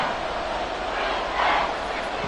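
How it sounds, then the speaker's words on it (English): Crowd roar at Arrowhead Stadium in the Madden 23 football video game, a dense, sustained wash of cheering that swells briefly midway, with commentary voices mixed in. "this is where the Arrowhead crowd can make it very tough"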